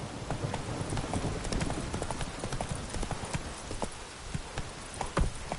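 Roach, the horse in The Witcher III, gallops in a quick, steady rhythm of hoofbeats, close and fairly loud against a rushing outdoor background.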